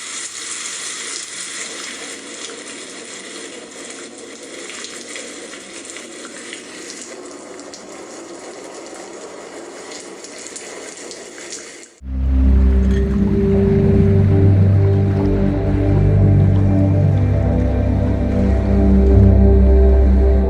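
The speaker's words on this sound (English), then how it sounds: "The ship that Ponniyin Selvan sails on from Sri Lanka to Kodiyakkarai is hit by a cyclone" Storm at sea during a cyclone striking a sailing ship bound from Sri Lanka to Kodiyakkarai: steady rushing water and wind noise for about twelve seconds, then a sudden shift to a louder, deeper churning swell.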